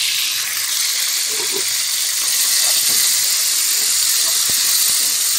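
Slices of brown stew fish frying in a pan Jamaican style with seasoning: a loud, continuous, close sizzle and hiss with faint crackles and occasional light taps.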